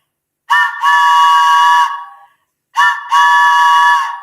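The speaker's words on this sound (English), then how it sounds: "train whistle. There it goes" A little train whistle at Hollywood Studios gives two bright, clear toots, each starting with a short chirp before a sustained tone of over a second, separated by a brief silence, loud and close with no talking.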